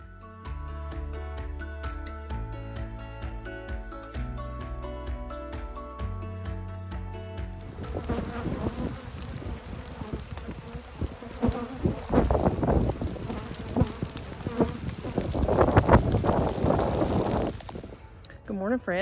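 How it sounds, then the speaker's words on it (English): A honeybee swarm settling into a hive box gives a dense, rising buzz after a stretch of music, the humming swelling and surging close by for about ten seconds. "allow these bees to make their way into the box over the next few hours"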